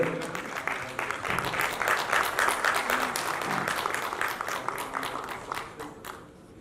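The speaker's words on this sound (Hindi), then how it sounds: "जोरदार तालियों से फिर से एक बार आदरणीय अठावले साहब का स्वागत हम लोग करते हैं।" Loud audience applause welcoming Athawale at an awards ceremony, a thick, continuous wash of many hands clapping that swells through the middle and thins out toward the close.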